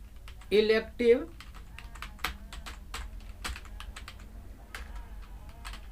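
Someone types text into an Excel sheet on a computer keyboard. Clicky taps come at an irregular pace up close, and a brief voice or vocal sound is heard near the start.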